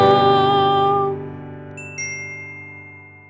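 A doorbell ding-dong sound effect rings out loud and alone, a bright sustained chime note that slowly decays, joined by a second higher tone partway through.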